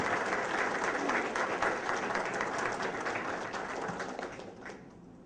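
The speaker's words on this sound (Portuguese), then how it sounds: "Eu queria, por favor, uma salva de palmas para o trabalho deles." Seminar audience applauding with a thick, steady patter of many clapping hands, loud at first and gradually thinning and fading toward the end.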